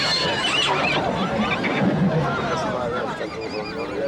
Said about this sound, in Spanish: Las sierras gallegas ya no cuentan como antaño con caballos salvajes